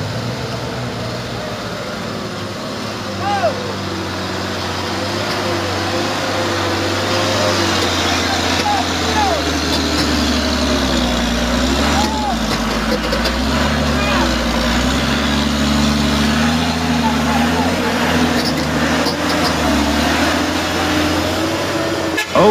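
A Mitsubishi Tronton truck engine labours steadily up a steep road slope, a loud continuous low drone with shifting pitch throughout, mixed with traffic noise and a few short horn toots.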